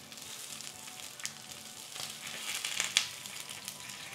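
Jalapeño and serrano chiles sizzle steadily as they fry and brown in a pan, a soft continuous crackle with a few sharper pops and no voices.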